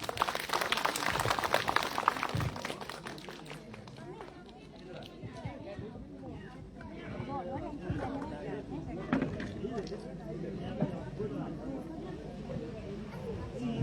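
A crowd at a government school Independence Day celebration applauds loudly for several seconds, then the clapping fades into chatter and a speaking voice.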